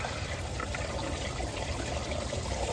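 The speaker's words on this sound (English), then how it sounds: "Get your garden hose in there and just flush her out." Water from a garden hose flushes out the cooling system of a 24-valve Cummins engine during a thermostat and water pump replacement, making a steady, moderately quiet trickling and splashing flow with no talk.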